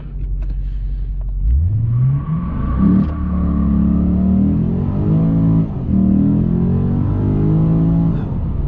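A 2009 Lexus IS-F in sport mode accelerates hard from a standstill, its engine roaring loud and close from the cabin, rising in pitch through the gears with brief dips at each upshift.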